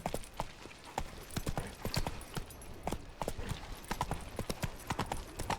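Roach the horse gallops in The Witcher 3, its hoofbeats a steady, rhythmic clip-clop that stays close and clear for the whole stretch.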